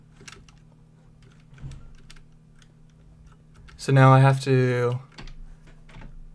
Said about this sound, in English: Is my keyboard loud?